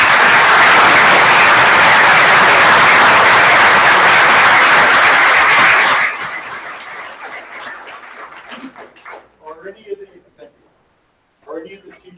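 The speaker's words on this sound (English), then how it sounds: "Let's give one round of applause to the winners," Loud round of applause for the winners at a school board meeting, steady dense clapping for about six seconds that then thins into scattered claps and murmuring voices before fading out.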